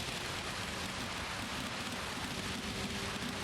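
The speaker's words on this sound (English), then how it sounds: "The rain is in the top 1/3 of the rain meter." Steady rain hiss during a wet race in the Gran Turismo 7 racing game at High Speed Ring, a dense, even wash of noise that runs unbroken throughout with a faint low engine tone beneath.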